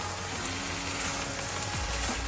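Clam meat roasting in a pan, Kerala thattukada style, sizzles steadily throughout with a broad hiss and faint scraping as it is stirred, close and even in level with no voices.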